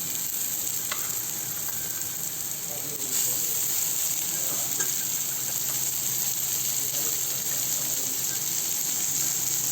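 Small nethallu anchovies frying in a pan with onion and tomato for a fish curry, a steady loud hiss and sizzle with occasional stirring clinks, with no break throughout.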